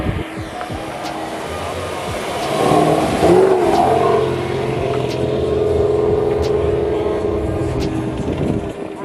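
A C8 Corvette at a car meet revs loudly nearby, its engine swelling and sustaining under crowd noise and murmuring voices.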